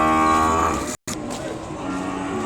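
Ongole cattle at a livestock market in Kodada low with a long, loud moo up close, followed after a brief break by quieter market noise and softer lowing.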